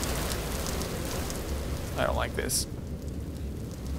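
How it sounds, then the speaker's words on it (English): Rain in the video game Empty Shell falls as a steady hiss of drops with a low rumble underneath, while a voice speaks briefly over it partway through. "Oh, it's rain."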